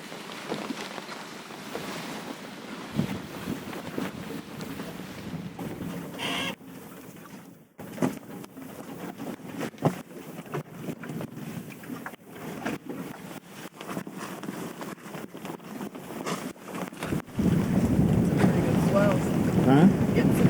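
A Catalina 16.5 sailboat sails on Tampa Bay in swells, with wind buffeting the microphone and water rushing and splashing past the hull. The rush grows louder toward the end.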